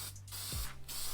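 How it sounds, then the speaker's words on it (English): Polyacrylic finish hisses from a spray can onto a walnut peg board game in two short bursts, close and steady, over a low background hum. "Now applying about 7 coats of polyacrylic spray, sanding between each coat with a 220 sandpaper."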